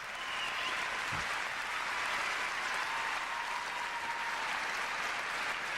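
A large ice-show audience cheers and applauds throughout in a steady, dense wash of clapping and whoops that fills the arena and stays loud and even from start to finish.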